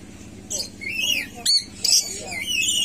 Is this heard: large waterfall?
no